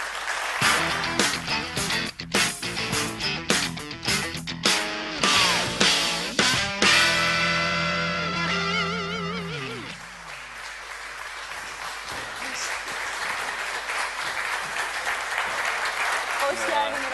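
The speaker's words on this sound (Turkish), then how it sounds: "Alkışlarınızla çağırıyoruz" A talk show studio audience applauds a guest's entrance over loud stage music, the music dominating at first and then giving way to a sustained wash of clapping.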